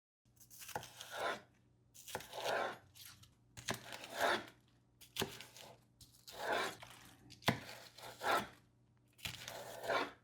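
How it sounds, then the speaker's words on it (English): Knife cutting through the thick, tough core of a napa cabbage on a cutting board, about seven separate crunchy chops spaced roughly a second apart, close and fairly quiet with nothing else around them. "the core is a lot thicker and tougher than the outer leaf part, so I'm going to divide it and cut it separately"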